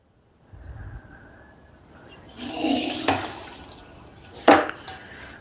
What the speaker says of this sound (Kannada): ಇವಾಗ ನಾನು ಇದನ್ನು ಸೋಸ್ತಾ ಇದ್ದೀನಿ